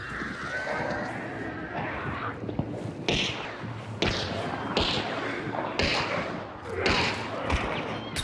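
Gunshots in the video game Hunt: several sharp booming shots at irregular intervals over a busy, rumbling game soundscape, fairly close and loud.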